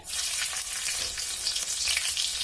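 A spoonful of chana dal and two green chillies sizzle in hot oil after mustard seeds, a dense, steady frying hiss that holds at one level throughout with no voices.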